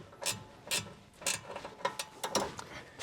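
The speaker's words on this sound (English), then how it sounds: "hold it with the Allen wrench while you loosen the nut." Ratcheting wrench loosening a rear suspension nut on a 2012 Honda Accord, a close series of quick metallic clicking strokes in uneven rhythm.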